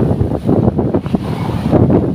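Heavy wind buffets the microphone over big stormy sea waves at sea, a loud, continuous low rumble with surging gusts and crashing water, no voices.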